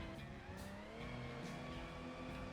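A modded rock crawler truck engine in BeamNG.drive revs steadily at high pitch, its harmonics holding a constant whine with slight rises, loud and continuous with no talking.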